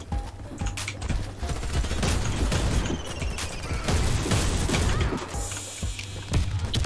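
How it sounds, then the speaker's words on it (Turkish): Repeated heavy blasts from a gold custom Mossberg 590 pump shotgun in the shooter game Warface, several sharp booming shots spaced a second or so apart amid other battle noise, loud and close. "Silah vuruyor."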